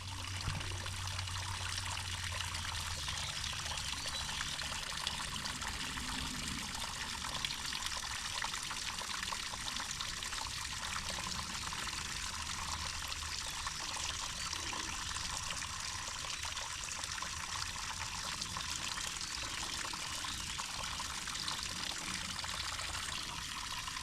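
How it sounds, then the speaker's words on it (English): Small waterfall beside a bike trail, water trickling over moss: a steady, continuous wash of running water at moderate distance, unbroken for the whole stretch with no voices. "So there's a lot of waterfalls on the trail."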